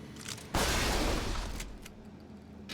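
Shotgun from BioShock Infinite: Burial at Sea, one loud sharp blast followed by a long fading rumble, a few faint clicks afterward.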